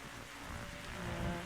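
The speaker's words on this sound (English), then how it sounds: "That storm looks like it's getting nastier." A thunderstorm with rain in a video game pours down as a steady, dense hiss that runs unbroken throughout, with a low rumbling undertone that swells slightly near the end.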